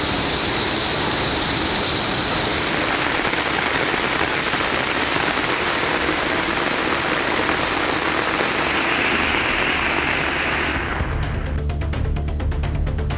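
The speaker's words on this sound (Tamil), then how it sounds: "சுமார் அரை மணி நேரம் இடைவிடாது கனமழை பெய்தது." Heavy, continuous rain pours down steadily and loudly for about half an hour's spell, a dense even hiss close by, shifting near the end to a lower, rumbling wash.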